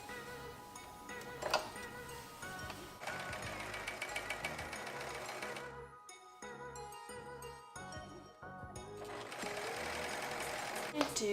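A serger sewing machine stitches the side seam of a bubble skirt, running in loud, steady mechanical bursts that pause briefly near the middle and then resume.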